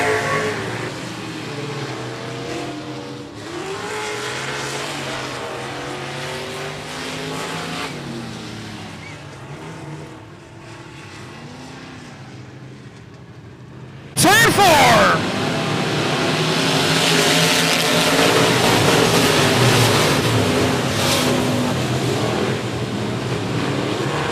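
Race cars circling a speedway oval during a regular race program, engines droning and surging at a steady distance, with a louder, brighter burst of passing engine noise partway through and a voice talking over the track.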